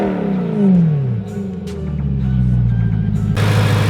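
BMW E92 M3 with its naturally aspirated S65 V8 and Megan axle-back exhaust with valve cutouts, revving loud and close, a deep rising and settling engine drone alone with no talk.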